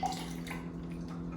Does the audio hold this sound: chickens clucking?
no